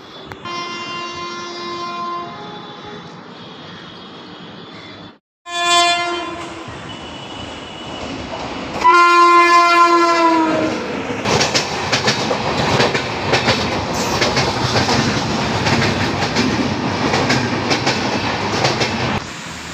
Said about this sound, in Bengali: থ্রু ট্রেন গেল